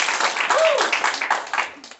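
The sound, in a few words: audience clapping at an improv show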